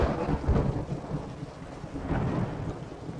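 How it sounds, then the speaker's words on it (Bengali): Thunder rumbles low and heavy over a dense wash of pouring rain, the storm sounding loud and continuous, with rolling peaks near the start and again toward the end. "এমন সময় আকাশ ভেঙে শুরু হলো বৃষ্টি"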